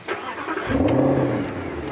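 A Mercedes SLS AMG Roadster engine cranks and catches from a push-button start, then revs up with a deep, loud roar that settles into a throaty idle, heard up close.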